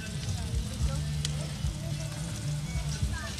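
Salt and garlic sizzle in a pan beside golden fried onion for a Brazilian vaca atolada stew, a steady crackling fry heard up close under a voice talking.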